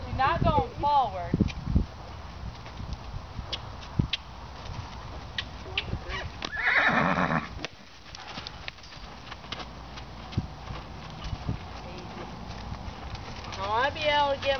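A mare being lunged gives short neighs at the start and end, with hoofbeats in the arena and someone talking over much of it.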